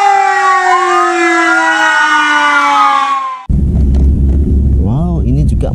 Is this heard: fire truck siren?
yes